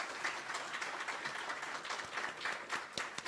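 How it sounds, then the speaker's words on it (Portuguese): Audience applause at a Smart Humane Cities event, with a steady wash of clapping from a crowd running the whole stretch, moderately loud and unbroken, with no voices over it. "eu pediria uma salva de palmas, porque eles merecem"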